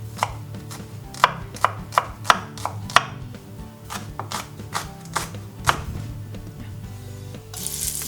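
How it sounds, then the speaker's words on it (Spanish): A knife chops onion finely on a board, giving a run of sharp, close taps, quick at first and then more scattered, with no voices. "la cebolla la voy a picar finita para que desaparezca lo más posible una vez que se cocine"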